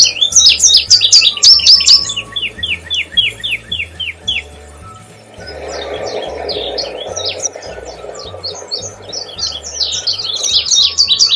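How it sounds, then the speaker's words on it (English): An indigo bunting sings bright, high paired and sliding phrases in quick bursts, pausing briefly before resuming, with a low hum and soft background chatter beneath. "Bird number 13, indigo bunting."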